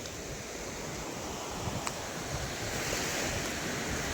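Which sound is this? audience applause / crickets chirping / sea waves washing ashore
sea waves washing ashore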